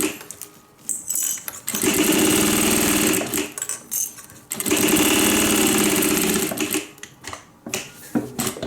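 A sewing machine stitches in two loud, steady bursts of about three seconds each, with brief pauses between runs while a cabin bag is being sewn.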